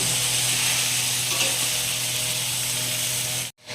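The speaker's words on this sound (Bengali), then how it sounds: "আলু দিয়ে ভালো করে আবার আমি এইগুলোকে কষে নেব" Soya chunks and potatoes fry in a pan, a steady loud sizzle with a faint stirring scrape before it cuts off abruptly near the end.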